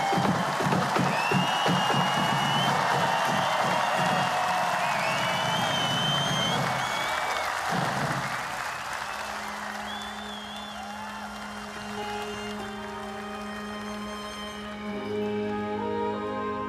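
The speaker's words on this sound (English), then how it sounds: "The roar from the crowd says it all." A large crowd at the Royal Edinburgh Military Tattoo roars and claps loudly, the applause dense at first and then fading as sustained instrumental tones take over.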